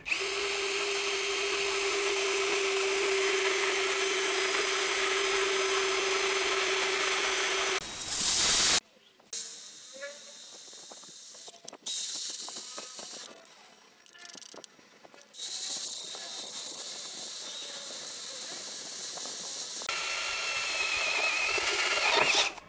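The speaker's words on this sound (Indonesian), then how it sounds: "kita coba pengeboran lebih besar," A Premier HL 818 cordless brushless impact drill bores a 10 mm hole with a steady whirring drone for about eight seconds, then a sharp loud burst, followed by quieter intermittent grinding and rattling.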